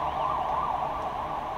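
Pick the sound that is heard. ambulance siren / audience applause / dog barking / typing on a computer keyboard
ambulance siren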